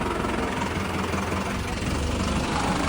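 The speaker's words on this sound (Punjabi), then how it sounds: "ਹੁਣ ਥਾਂ ਹੋ ਗਿਆ ਉੱਚਾ ਟਰੈਕਟਰ ਥੋੜੇ ਸਲਿੱਪ ਜੇ ਮਾਰਦਾ ਹੈ" A steady, rumbling tractor engine idles continuously at close range, with a low, even drone and no clear breaks.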